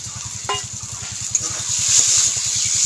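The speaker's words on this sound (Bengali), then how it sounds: "এখন আমি এই যে মাংসগুলো নিয়েছিলাম মাংসগুলো দিয়ে দিচ্ছি" Pieces of chicken dropped into a hot pan for samosa filling, a steady crackling sizzle rising after a brief clatter, with a low rhythmic hum beneath and no talking.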